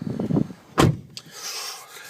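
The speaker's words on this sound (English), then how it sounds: "I think I'll get back into the car because it's a bit nippy here" A car door opens and closes with one solid thump, followed by a brief click and a softer rustle as someone climbs into the car on a chilly, windy day outdoors at the Blackpool Illuminations storage facility. A voice murmurs just before the thump.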